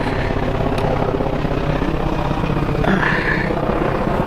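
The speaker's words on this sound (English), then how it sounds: "here comes a Black Hawk helicopter overhead, so it may drown out my voice" A Black Hawk military helicopter passes overhead above a homestead garden, its loud, steady rotor thump and engine roar filling the whole stretch close by with no speech.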